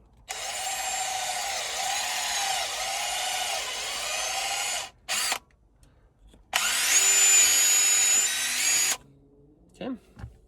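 A power drill fitted with a step bit bores a hole in a Jeep JL, whining steadily for several seconds, stopping, then a second strong high-pitched burst and brief trailing spins, loud and close.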